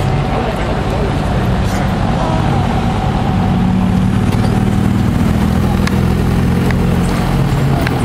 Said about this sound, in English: That Mustang over there sounds good.